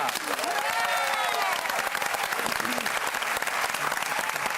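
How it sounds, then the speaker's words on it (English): A studio audience on an Australian music quiz television show breaks into sustained, loud applause with some cheering, steady and dense from start to finish. "can we have a round of applause for Yalla?"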